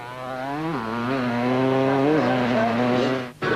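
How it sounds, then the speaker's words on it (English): A KTM rally motorcycle at the 1998 Lichtenburg 400 revs hard and pulls away on a wet course, a loud buzzing engine note rising and shifting through gears before cutting off. "Now it was the turn of the bikes to get on their way."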